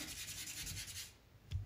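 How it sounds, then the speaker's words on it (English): Hand sanding a fiberglass bathtub patch with fine 600-grit paper: quiet, steady rasping strokes for about a second, then a pause and one short scrape, with no voices. "I'm trying to get this smooth and sand mostly on the repair that I did"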